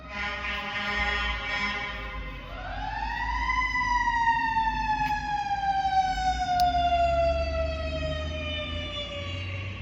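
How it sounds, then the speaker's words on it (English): A fire truck siren wails through Los Angeles streets, its tone sweeping up and then holding a long, slowly falling pitch as it passes, loud and fairly close over a low rumble of traffic. "there's always a fire truck, an ambulance, or a police car zooming by"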